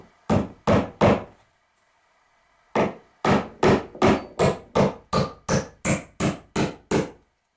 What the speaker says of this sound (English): And nail it into the joist.